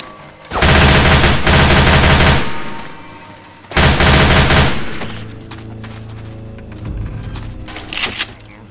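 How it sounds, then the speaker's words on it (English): Machine gun fire from Left 4 Dead 2 roars in two long, loud sustained bursts separated by a brief pause, followed by quieter scattered shots and game noise. "Going with the machine gun."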